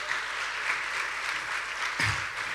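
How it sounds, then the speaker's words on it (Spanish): Audience applause at a welcome gathering in a home, a steady wash of many hands clapping at moderate distance, continuous throughout with a low thump near the end. "Vamos a dar un fuerte aplauso."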